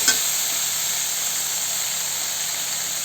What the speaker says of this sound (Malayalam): തക്കാളി ചേർത്ത് കൊടുത്തിട്ട് അതിൻ്റെ കൂടെ ഒരല്പം ഉപ്പ് ചേർത്ത് കൊടുക്കണം